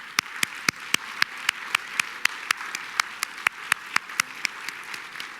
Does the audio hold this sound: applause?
yes